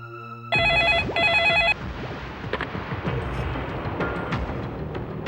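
A telephone rings in a Hindi TV drama, two loud electronic trilling bursts up close, then cut off as a dense, noisy background bed takes over.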